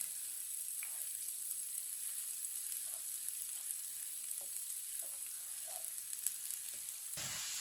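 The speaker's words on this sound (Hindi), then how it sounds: "प्याज को हल्का सा ब्राउन कर लेंगे।" Chopped onions fry in a pan with a steady, fine crackling sizzle, small pops scattered over the hiss, fairly quiet and close.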